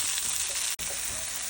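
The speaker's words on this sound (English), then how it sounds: "Add your tomatoes and your onion. And we're going to saute this for a couple of minutes" Tomatoes and onion sizzle steadily in hot oil for a caldo de camarón, a dense close frying hiss with one brief dropout midway.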